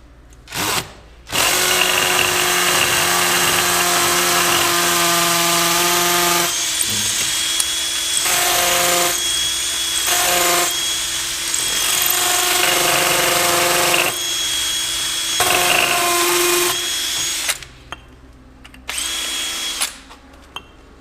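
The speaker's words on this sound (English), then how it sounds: "And I'll drill my hole in the center." A power drill whirs loudly and continuously for long stretches, its pitch shifting as it bores into wood, then stops and starts briefly near the end.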